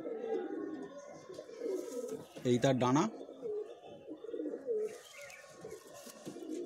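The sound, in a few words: pigeon cooing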